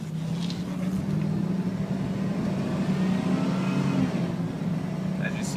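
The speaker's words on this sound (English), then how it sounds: "Good acceleration, plenty of power, transmission shift absolutely perfect." A Chevy Silverado pickup truck's engine revs and pulls steadily under constant road and wind noise, a continuous low rumble with no pauses.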